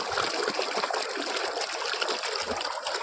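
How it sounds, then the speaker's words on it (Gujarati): Steady rush of water flowing from an underground pipe and splashing nearby, continuous and fairly loud with a bubbling, gurgling texture. "અંદરથી પાણી આવતું હોય ને જમીનમાંથી એવું લાગે કેમ કે અંદર પાઇપ છે"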